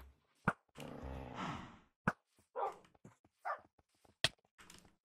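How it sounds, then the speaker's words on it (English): A dog in the Minecraft game gives a few short, sharp barks spaced apart, with a soft whimper and some brief clicks and splashes in between, fairly quiet and clear. "how did Wekko Flipper's dog get here?"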